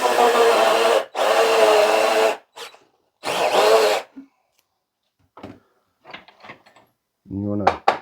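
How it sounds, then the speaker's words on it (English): A power drill with a big bit whirs in three bursts of about a second each, followed by quieter scraping and handling noises and a brief low hum near the end. "First thing you want to do is drill about halfway through on the first side"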